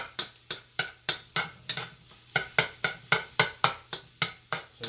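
Chicken for fried rice sizzles in a pan while being stirred and broken up, with a steady series of sharp utensil scrapes and clacks against the pan roughly every quarter second over continuous frying hiss.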